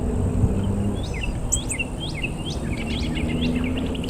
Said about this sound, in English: Hear that high-pitched bird chirp?